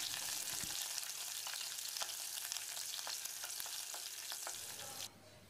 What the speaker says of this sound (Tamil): ரெண்டு பச்சை மிளகாயை சேர்த்து ஒரு 30 செகண்ட் இதை பிரட்டி விடுவோம்